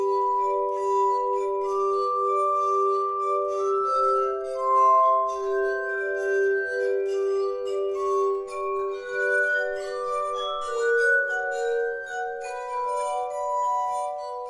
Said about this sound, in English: To actually play the glass harmonica, the first thing you have to do is go wash your hands like crazy.